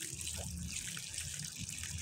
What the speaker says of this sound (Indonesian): Terus disiram ya sahabatku, harus disiram ya.